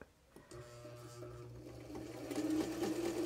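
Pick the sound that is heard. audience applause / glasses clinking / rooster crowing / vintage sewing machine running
vintage sewing machine running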